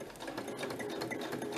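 A fairly large sewing machine runs steadily at a quiet level, its rapid, even stitching chatter continuing without pause and with no talk over it.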